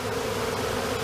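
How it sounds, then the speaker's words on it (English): A swarm of honeybees buzzes in a steady, dense drone that holds even and continuous from start to finish, close by and loud, with no voices. "It seems that they have swarmed"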